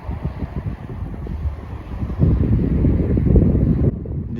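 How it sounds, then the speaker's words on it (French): Wind buffets the microphone in rough, rumbling gusts that swell louder midway, with a distant wash of surf beneath, on a beach at Cayeux-sur-Mer at night. "Et désolé pour le vent."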